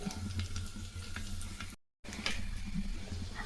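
Mustard seeds splutter in hot oil in a kitchen pan, a steady close crackle and sizzle with scattered sharp pops, broken by a short silent gap midway.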